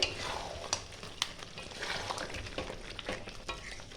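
Chicken bhuna sautéing in a pan, a steady close sizzle with scraping stir strokes and a few sharp utensil clicks against the pan, no talking.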